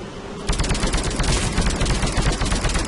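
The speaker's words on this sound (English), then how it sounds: "I'm actually using a sniper rifle. As automatic as this gun is, this is a sniper rifle." Rapid automatic fire from a sniper rifle in the video game Mass Effect 3, a dense, loud, continuous stream of shots starting abruptly after a brief lull and running unbroken to the end.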